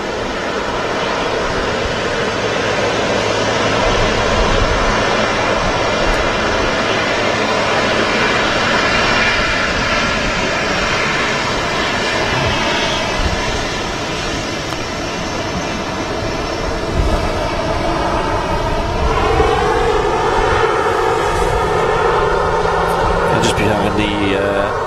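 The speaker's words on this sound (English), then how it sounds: "Bit of thrust there from the 777." A Boeing 777 at Manchester Airport roars continuously with jet engine thrust, a loud, broad rumble and whine that rises and falls over time, with a voice talking over it.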